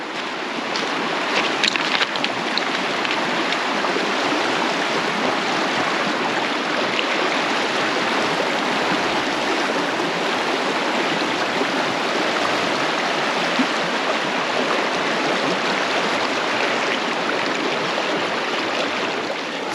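River water flows and rushes steadily at Cossatot River State Park, a continuous broadband roar of a stream running over rocks, constant and fairly close with no voices.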